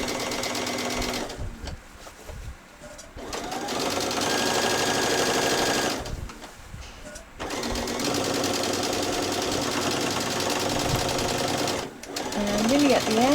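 Sewing machine stitching a child's dress, running in long steady bursts with short pauses between them, while a person talks over parts of the sewing.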